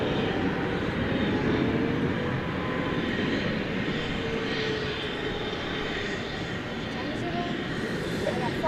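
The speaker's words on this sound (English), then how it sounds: "the next incoming flight here on the west side of DFW is American Flight 2811 coming in from Philadelphia" An American Airlines flight from Philadelphia arrives on the west side of DFW airport, a steady broadband aircraft engine roar holding fairly loud and constant throughout, with faint voices mixed underneath.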